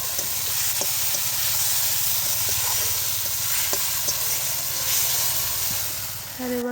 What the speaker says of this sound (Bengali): এবার একে একে দিয়ে দেবো লবণ, হলুদ, এবং হলুদ গুঁড়ো দিয়ে ভালো করে কষিয়ে নেব তেল ছাড়া অবধি।